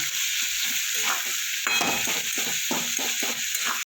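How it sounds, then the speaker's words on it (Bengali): Sliced onions with a pinch of salt fry in hot oil in a pan for a Bengali small-fish jhal. A close, steady sizzle runs throughout, broken by repeated scraping stir strokes of a spatula, with no talking. "পেঁয়াজটা আমার অনেকটা ভাজা হয়ে গেছে"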